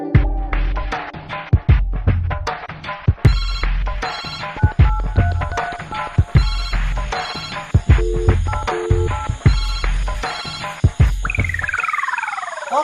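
A mobile phone ringing with a repeating electronic ringtone, its bright tonal phrases cycling over and over for several seconds with sharp clicks in between.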